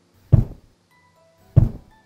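A voice imitating the thump of something jumping down beside a bed in a boarding-school dormitory: two dull, heavy thuds about a second apart, close and alone.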